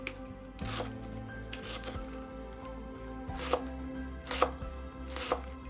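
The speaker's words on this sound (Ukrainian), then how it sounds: "обов'язково потрібно додати перець чилі. Це може бути як зелений, так і червоний. Нарізаю його кільцями." Several crisp knife chops slicing a chili pepper into rings against a cutting board, spaced irregularly, close and fairly quiet, with a low steady hum in the background.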